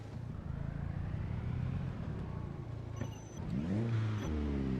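A car in poor condition driving in the video game Project Zomboid, its engine droning and then revving up near the end, loud and close with no voices.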